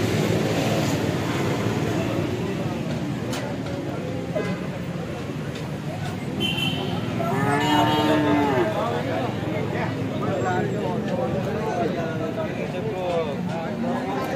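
A Triveni breed cow moos once at a busy cattle market in Alephata, a drawn-out low call rising out of constant crowd chatter and nearby voices.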